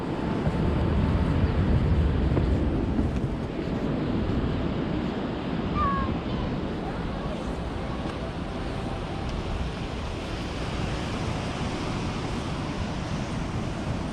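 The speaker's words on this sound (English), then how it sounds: "you need to hear the sound of the sea" Steady broadband wash of sea surf and wind on the Portstewart coast, a continuous roar with no distinct breaks, heard close and fairly loud with no talk.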